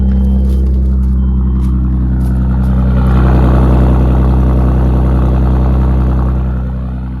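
A Nogaro Blue Audi B5 S4 engine runs steadily close by, a loud, deep, even hum with a slight swell in the middle before easing off, no speech.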